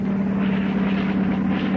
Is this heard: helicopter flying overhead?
yes